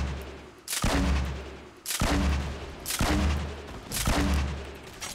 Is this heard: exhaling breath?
no